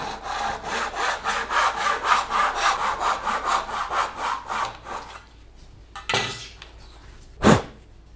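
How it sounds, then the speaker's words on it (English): A hand saw cuts a piece of wood for a guitar nut with about a dozen quick, even back-and-forth rasping strokes, close and clear. The strokes stop, and two sharp knocks of wood being handled follow. "First cut, so this will be the nut."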